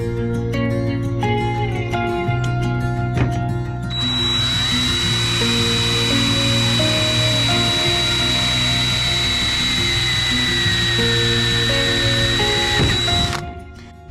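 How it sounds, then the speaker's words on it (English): A power drill bores a 1/8 inch hole through a shifter bushing on a 1965 Chevrolet Corvair, with a loud, steady, high-pitched whine close by. Clicks and mechanical handling come before it, and the whine cuts off sharply at the end. "then drill a 1/8 inch hole around the edges"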